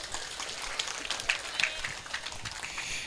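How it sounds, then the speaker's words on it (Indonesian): Audience applause for a school principal at an event, a moderate patter of clapping from a crowd, fairly distant and steady over a few seconds. "Tepuk tangan dulu dong buat Pak Kepala Sekolah."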